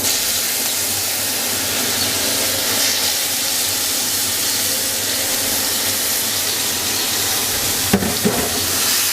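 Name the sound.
chopped carrots frying in ghee with cardamom and cinnamon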